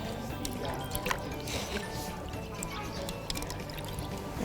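Freshly picked garden vegetables rinsed under running water in a kitchen, a steady splashing pour with drips and wet squishing, close and moderately loud, with no talk.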